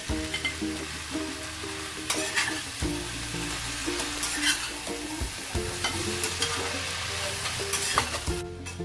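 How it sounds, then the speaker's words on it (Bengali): Vegetables and eggplant frying in a pan, a steady sizzle broken by repeated scraping and stirring strokes at an uneven rhythm, close and fairly quiet with no talking. "এখন সবজিগুলোকে খুব ভালো করে ভেজে নেব।"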